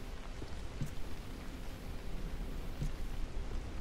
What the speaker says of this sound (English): Now, here is raining